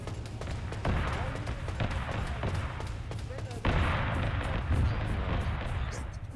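Cover gunfire in a military video game: heavy, booming volleys and rumbling blasts roll continuously, with sharp shots cutting through and a louder burst midway, while voices talk over the din.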